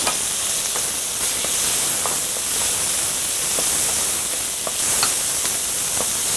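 Chicken and vegetables in a pan with a few drops of sesame oil give a steady, loud, close sizzle with small scattered pops throughout.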